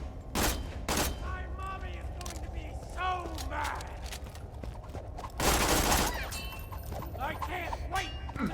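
A weapon is hip-fired in Borderlands 2, giving a rapid fusillade of loud, close gunshots in uneven bursts with mechanical clatter, while a voice talks over parts of the firing.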